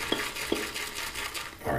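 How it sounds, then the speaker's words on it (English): A shaving brush swirls in a bowl of Saponificio Bignoli Violetta di Parma shaving cream, loading lather with soft, wet swishing strokes and a few brief taps against the bowl up close. "I'm just gonna continue to just load up a bit extra from the bowl"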